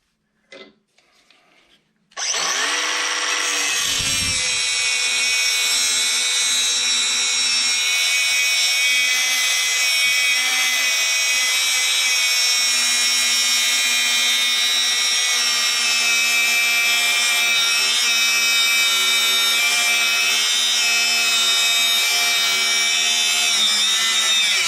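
Dewalt DCS438B 20V brushless 3-inch cordless cut-off tool spinning in reverse, starting with a sharp spin-up and then holding a loud, steady high-pitched whine for over twenty seconds, with no talking.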